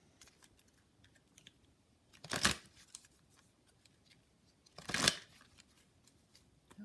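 Crystal Angels oracle cards being shuffled, two separate quick riffling bursts a few seconds apart, close and crisp against a quiet room.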